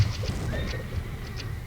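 Horses of horse archers in the strategy game Kohan whinny and clatter in a short, busy burst, game sound effects layered over a low rumble.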